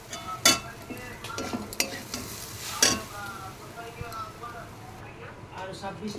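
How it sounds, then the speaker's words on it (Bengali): Sweet semolina with ghee is stirred in a pan, giving intermittent scraping strokes and a few sharp clinks over a soft sizzle, while a person talks. "ঘি দিয়ে দেবে দিয়ে একটু নাড়াচাড়া করে গ্যাসটা বন্ধ করে দেবো"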